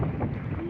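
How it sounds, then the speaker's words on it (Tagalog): Wind and rough sea waves buffet a small paddled boat far out at sea, a steady loud broadband roar of water and gusts pressing on the microphone throughout. "Ang lakas ng alon."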